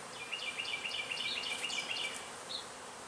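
Honey bees in an opened beehive during a check on the queen's laying, a soft buzzing hum with several brief chirp-like tones over it.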